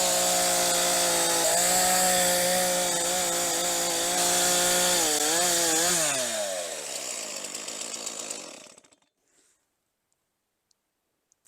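A chainsaw cutting wood roars loud and close at full throttle, its pitch bending as the chain bites, then winding down and cutting off, leaving near silence.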